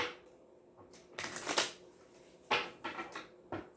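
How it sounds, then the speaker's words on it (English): Tarot cards are riffled and shuffled in several quick bursts, close and crisp, with short pauses between the shuffles. "Do a couple more shuffles, then I'll cut them."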